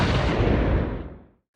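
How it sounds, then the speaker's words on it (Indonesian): A single massive explosion in a film booms out, a deep, loud rumbling blast that roars for about a second before trailing off into silence. "Ledakan dahsyat"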